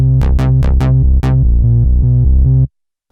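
Gaia A-1 bass patch on a Roland Juno-DS synthesizer, a sequence of sharp plucked bass notes followed by a steady rhythmic run of sustained tones, loud and alone before cutting off abruptly.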